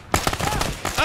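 A quick volley of rapid gunfire in the military game Arma, several loud close shots in tight succession over about a second.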